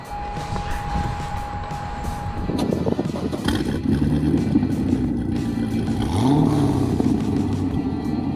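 A Corvette C6 Z06 engine cranks and fires up after a brief tone, then settles into a loud, steady, rumbling idle up close, with no one talking.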